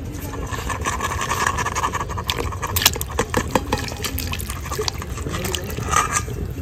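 Washed mutton is dropped into a pot of water with turmeric and salt, giving splashing, dripping and wet sloshing with small clinks, close and steady throughout, with no talking.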